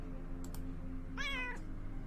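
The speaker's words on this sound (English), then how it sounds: "Cute little kitty cat." A cat meows once in the video game Underrail, a short rising-falling call heard alone over a low steady game background hum.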